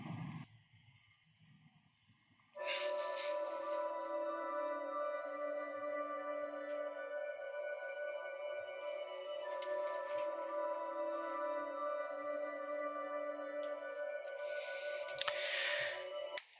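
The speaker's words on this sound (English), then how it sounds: "So, reversed, the first pad sounds like this." Reversed synth pad in FL Studio, starting faint and murky before swelling into a sustained chordal wash that keeps a steady level, with brief brighter bursts near the start and end.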